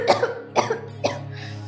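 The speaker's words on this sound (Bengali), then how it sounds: "তোমার এত যখন কাশি আসছে" A person gives three quick, harsh coughs in close succession, each a sharp burst with a short rasp after it, near and clear with a faint hum behind.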